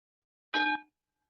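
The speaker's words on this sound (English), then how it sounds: "Let's listen one more time to the sound of the bell." A single bell struck once in a quiet room during a guided mindfulness session, ringing with bright sustained overtones that swell at once and then fade away into silence.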